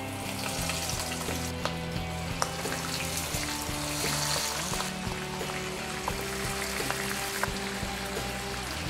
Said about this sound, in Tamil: மீதி இருக்கிற சிக்கனையும் நம்ம ஃப்ரை பண்ண போகிறோம்.